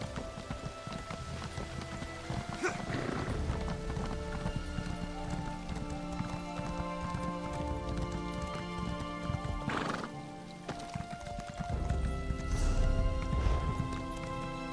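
Horse hooves clip-clop in Elder Scrolls Online Morrowind, a steady run of close hoofbeats over game ambience, with a couple of louder whinnies or neighs mixed in.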